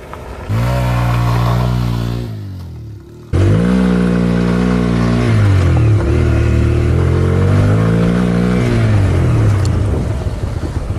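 A Bajaj CNG motorcycle running on petrol accelerates on a ride, its engine revving up loudly and close, dipping briefly as it shifts, then pulling hard again with a rising, steady drone.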